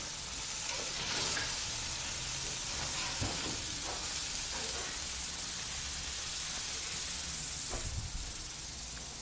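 Burgers sizzle on an open-fire grill with a steady, soft hiss and crackle that runs throughout, with a few faint pops and clicks from the spatula.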